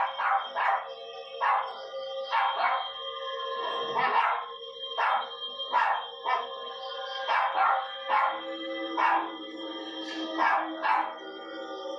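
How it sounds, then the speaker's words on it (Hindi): A dog barks loudly and repeatedly in a tense horror story, a dozen or so bright, sharp barks in quick irregular bursts, close and dominant with no voices over them. "फिर टफी वहीं रुक जाता है और जोर जोर से भौंक कर अपने साथियों को पुकारने लगता है"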